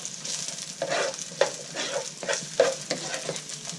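Ingredients for lo mein cooking in a pan, with bursts of sizzling and spatula stirring strokes in an uneven rhythm, close and moderately loud, no talking.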